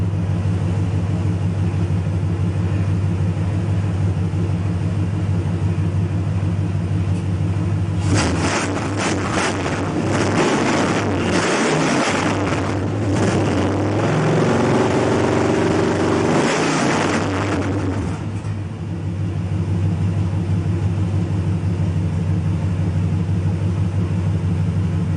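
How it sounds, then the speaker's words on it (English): 1974 Chevy Nova with a 454 big block V8 idling with a steady low rumble, then revved hard for several seconds into a loud, rising roar before dropping back to idle, close and alone without talk. "I'm gonna give it a little rev,"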